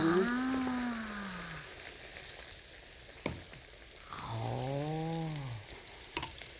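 Vegetables stir-fry in a frying pan in a Korean temple kitchen dish of lotus root and spinach, a steady loud sizzle with a stirring knock midway, while people talk over it in clear sustained voices.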